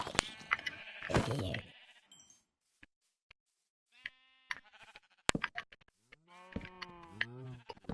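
Several Minecraft sheep bleat in short wavering calls, some loud and close, with a lower moo-like call mixed in and quiet gaps between.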